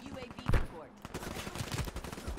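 Video game gunfire, a quick burst of rapid shots followed by a steady stream of fainter, rapid-fire pops, with a voice talking over it.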